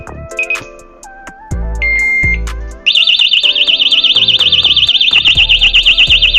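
A motorcycle disc lock alarm set off by its motion sensor starts with a few short rising chirps, then breaks into a loud, continuous warbling siren that wails on steadily up close.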